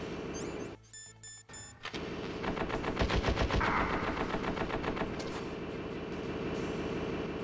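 Enemy gunfire in the video game Metal Gear Solid, a dense run of rapid automatic shots with some mechanical game sounds, steady and loud for most of the stretch with no talking.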